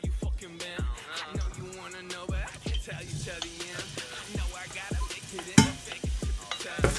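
Potatoes frying in oil in a pan for fried potatoes, with repeated stirring scrapes and knocks over a steady close sizzle, no voices.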